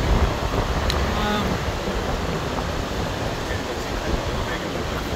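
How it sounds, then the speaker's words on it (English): Heavy ocean waves and strong wind roar along a closed beach in Kenting, Taiwan, during Typhoon Koinu: a constant, loud, broadband rush of surf and gusts buffeting the microphone, with no break. "So heavy waves there are, and strong wind."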